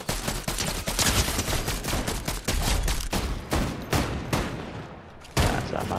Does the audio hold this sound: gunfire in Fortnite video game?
yes